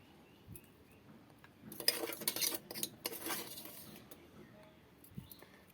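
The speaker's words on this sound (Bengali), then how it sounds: "এই যে এইভাবে নেড়ে নেড়ে নেড়ে যেতে হবে, নাহলে কিন্তু পুড়ে যাবে।" Panta bhat papad being stirred as it fries in a pan, a quiet scene broken by a few seconds of clattering spoon-on-pan scraping and clinks, then soft knocks.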